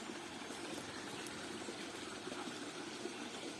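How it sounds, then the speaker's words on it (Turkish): Steady broadband rushing of flowing water from a stream running continuously after rain at moderate distance, with no other sounds. "Derenin sesi geliyor."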